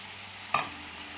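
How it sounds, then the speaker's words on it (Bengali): A single quick scrape of a spoon through banana flower (mocha) curry in a pan, heard over a soft, steady sizzle. "তো নেড়ে চেড়ে তোমাদের দেখাচ্ছি।"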